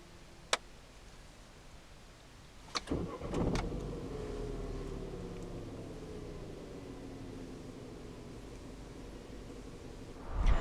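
A 2014 Vauxhall Astra GTC 1.4 turbo petrol engine cranks and catches, then settles into a smooth steady idle, with a few clicks before and a thump near the end.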